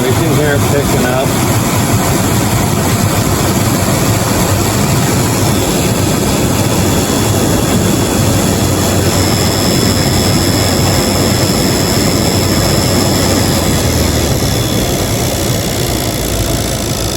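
Up close in the cabin, the blower fan of a 1997 Jeep Grand Cherokee rushes loudly with a constant dense airflow roar, sustained throughout with little change.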